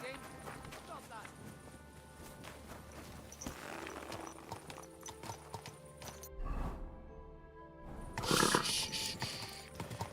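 Horse hooves clip-clop in the medieval video game Kingdom Come: Deliverance 2, a quiet walking rhythm with a snort or neigh near the end, mixed under game speech and ambient sound.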